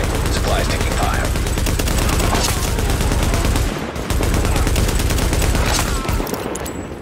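Sustained rapid gunfire in The Division, loud bursts of automatic weapons overlapping almost continuously, with a brief lull midway before the shooting resumes.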